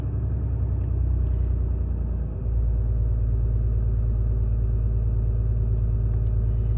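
A Ram pickup's 6.7 Cummins diesel idles high after a cold start, giving a loud, steady, even rumble that barely wavers from start to finish and has no voices over it.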